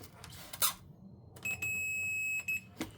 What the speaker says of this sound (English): I've set my multimeter to beep if there's a short.